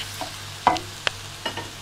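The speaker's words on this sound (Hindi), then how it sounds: "तो ये थोड़ी सी आप ऑनियन पकने दें।" Onions frying in a pan while being stirred, with a low steady sizzle under a few distinct scraping and clinking stirs, all close and fairly quiet, as the base for a mushroom pulao.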